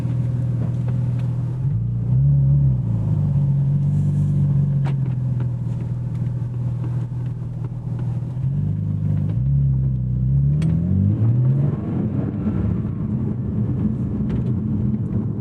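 A deep sports-car engine drones steadily with a throaty exhaust, its pitch rising and falling through a few revs, heard from inside the car.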